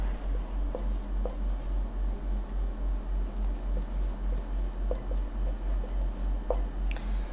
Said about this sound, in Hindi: चलो लिख देते हैं